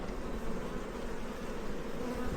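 Bees buzz softly near buckwheat in July in a steady, blended hum, a swarm droning nearby without pause, some carrying orange pollen.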